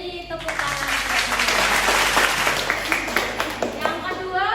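Classroom applause from students, a burst of brisk, fairly close clapping that rises quickly and stays lively for a few seconds, with voices mixed in.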